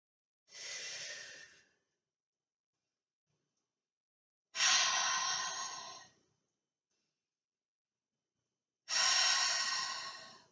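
Slow, deep breaths while holding a yoga pose: three long, airy exhalations, each followed by a few seconds of near silence, close to the microphone.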